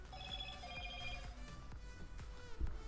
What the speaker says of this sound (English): Blong blong, what do you want, phone?